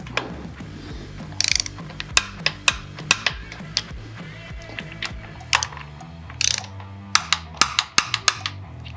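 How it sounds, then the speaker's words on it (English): Ratchet torque wrench clicking as it tightens breather bolts to 12 foot-pounds while a Stealth Air Stinger air cleaner kit is installed, with close, sharp ratcheting bursts in irregular runs and short pauses between them. "Now we're ready to torque down our breather bolts. We're going to do that at 12 foot-pounds of torque."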